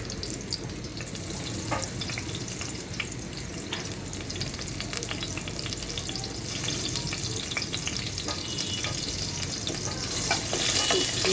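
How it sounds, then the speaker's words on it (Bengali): A bay leaf and a dried chilli fry in hot olive oil, making a dense, steady sizzle that runs throughout and grows slightly louder toward the end, heard up close without speech. "এখন এর মধ্যে একটা শুকনো মরিচ সরি তেজপাতা দিয়ে দিচ্ছি"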